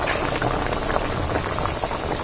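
Water bubbling steadily in a cooking pot, a dense continuous simmer that stays fairly loud and even throughout with no voices.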